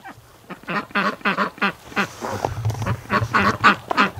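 A group of ducks quacking loudly and rapidly near a barn, a dense run of nasal calls close by, with a faint low rumble underneath.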